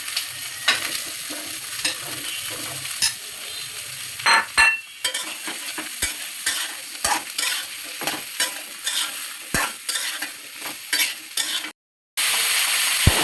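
Cut eggplant sizzling in oil with fried garlic and onion, a continuous close hiss punctuated by regular sharp clicks and scrapes of a spatula stirring against the pan, briefly cutting out near the end.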